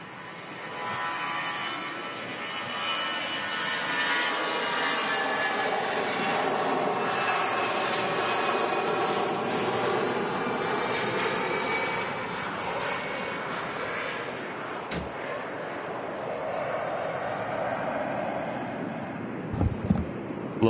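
An EasyJet airliner takes off at Manchester Airport, its jet engines roaring in a steady, broad rumble heard from a distance, with light wind buffeting on the microphone near the end.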